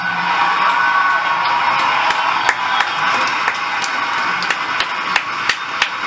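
Crowd at a Fourth of July Trump speech clapping and cheering, a steady roar of applause with sharp individual claps popping out on top, close and loud throughout.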